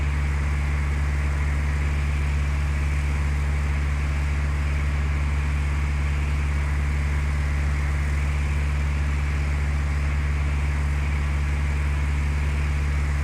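Steady propeller airplane engine drone from a simulated aircraft on final landing approach in Flight Simulator 2004, a continuous low hum with broadband whoosh, constant in level throughout with no voices.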